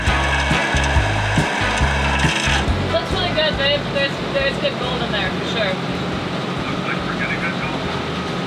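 A gold dredger engine runs steadily at close range, a continuous mechanical drone with strong low rumble through the whole stretch, while people talk over it.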